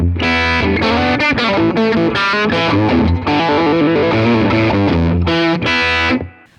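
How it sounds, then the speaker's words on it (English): Raunchy high-gain electric guitar through a Vox AC30 amplifier with the channel volume cranked and treble boosted, a loud distorted riff of chords and single notes with brief stops, played alone. "if I'm getting more of a raunchier, high gain sound, where I'm really cranking the channel volume, boosting some treble"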